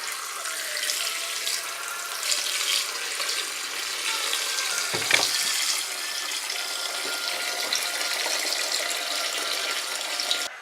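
Cold tap water runs steadily into a pot of freshly drained tomatoes in a home kitchen, a continuous close hiss and splash with a brief surge partway through, no voices.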